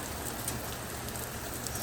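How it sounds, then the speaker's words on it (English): Steady rain falling outside in Colorado Springs in July, a constant broadband patter with scattered drops, fairly even in level and with no voices over it. "It's raining."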